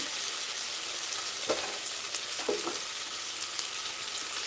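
Ginger frying in a pan for khichdi gives a steady, moderately quiet sizzle, with a couple of brief stirring scrapes and no voices.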